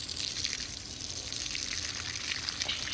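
Water pours steadily onto the soil of a raised garden bed, a constant soft splashing and trickling hiss at moderate volume with no voices.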